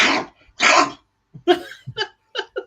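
A voice imitates Gollum's raspy, gurgling cough in several short throaty bursts, close and loud, with brief pauses between them.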